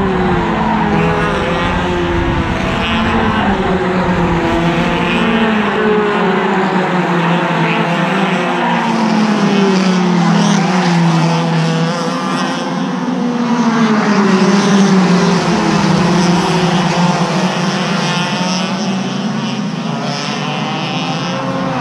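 Race cars roaring past on a track on a sunny day, loud sustained engine drone with rising and falling pitch as cars pass close by, continuous throughout with no pauses.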